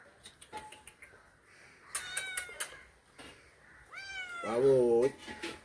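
A small kitten meows several times, short chirpy calls, then a longer drawn-out wavering meow near the end, with faint voices in the background.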